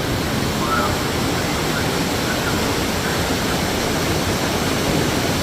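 Rushing water of the Yamuna river near its source at Yamunotri in the Himalayas, a steady loud broadband roar like a mountain torrent that continues without a break for the whole stretch.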